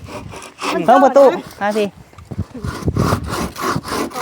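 A hand saw cuts wood on a house construction site, giving rhythmic rasping strokes close by, mixed with people talking throughout.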